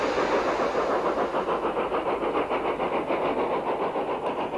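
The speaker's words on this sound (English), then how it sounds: "Another 2P climbs the bank with a gas wagon at the back." An LMS 2P steam locomotive labours up the steep 1 in 37.7 Lickey incline with a gas wagon at the rear, giving a steady, loud, continuous chuffing roar with faint rhythmic beats throughout.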